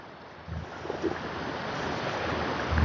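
A Colorado creek flows steadily outdoors, a continuous broad rush of water mixed with gusty wind buffeting the microphone, rising slightly toward the end.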